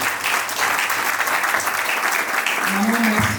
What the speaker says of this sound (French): On va applaudir pour maman.